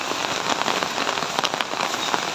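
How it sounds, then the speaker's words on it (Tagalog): Rain patters steadily on surfaces outdoors in a village garden, a dense close shower of drops with occasional sharper splats and no voices. "muulan po dito sa amin"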